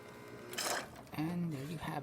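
An ECM espresso machine brewing, its pump giving a steady low hum with a mechanical, buzzing rattle and a brief hiss of broadband noise, close and moderately quiet.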